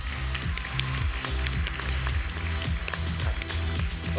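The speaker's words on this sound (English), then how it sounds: "Please, some applause for Jacob from Lemonade." Sustained applause from an audience at a conference stage event, steady and fairly loud throughout, with some cheering and voices underneath.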